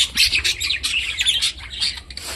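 Several pied budgerigars squawk and chirp busily up close, overlapping harsh calls in quick bursts with brief pauses.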